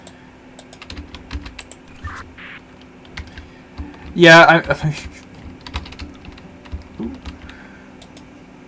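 Keys clatter steadily on a computer keyboard during PC gameplay, with a brief voice speaking over the tapping midway.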